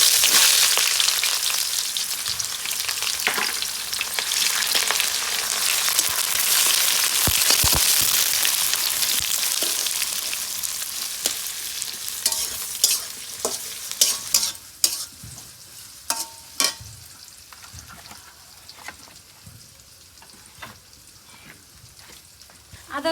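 Chopped onion drops into hot oil with chilli, bay leaf, whole cumin, cinnamon and cardamom, bursting into a loud, close sizzle that slowly settles, with clacks of stirring scattered through the later part.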